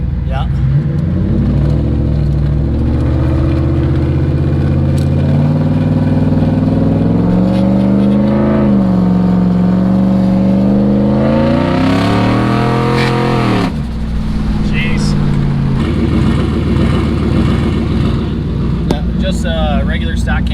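A big turbocharged Ford Coyote V8 swapped into a Ford LTD wagon revs up and settles into a loping idle with a Boss 302 cam exhaust note, loud and close, with people talking over it.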